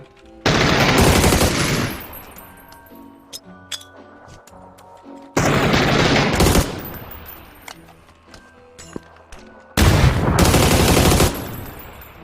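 Gunfire in a video game, with three loud sustained bursts of automatic fire about four seconds apart and scattered clinks and lighter shots in between.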